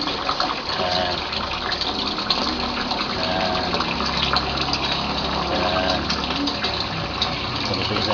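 Water gushing at full blast through an aquaponics siphon bell, a strong, continuous rushing and splashing that holds steady throughout.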